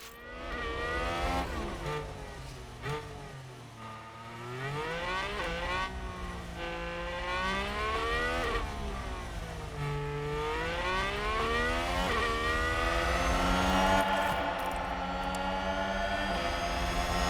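Formula 1 cars in F1 Manager 2022 race through the tight streets of Monaco, their high engine whines rising and falling in pitch as they accelerate and brake, several cars overlapping in a loud, continuous stream with no voices.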